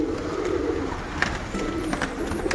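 Pigeons coo softly and repeatedly close by while they peck at chickpeas, low throaty calls rising and falling over a steady background hum, with a few faint chirps and no voices.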